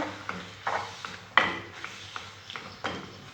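Chicken breast and onions stirred in a pan with a utensil, a handful of soft scraping knocks and clinks at uneven intervals, close and quiet with no talking.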